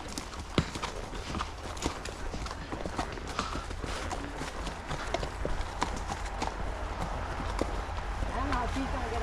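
Horse hooves clip-clopping steadily along a rail trail near Winchester, New Hampshire, a fairly close irregular clatter of footfalls over outdoor noise, with a person talking.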